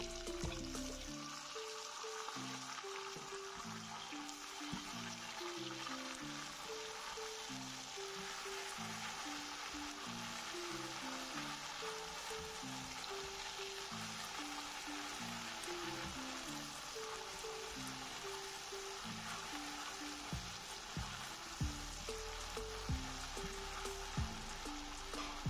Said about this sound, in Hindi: ये मैंने एक बड़े साइज का टमाटर लिया था चॉप किया, अब ये डाल देता हूँ